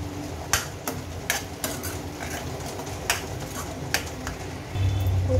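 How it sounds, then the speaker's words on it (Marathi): Rajma masala curry being stirred in a pan with garam masala and Kashmiri chilli powder, a spoon scraping and knocking at a steady irregular rhythm over a soft low sizzle, fairly close. "सगळं मिक्स करून घ्यायचं."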